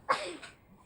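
A single sharp sneeze bursts out close by, then quickly trails off into quiet.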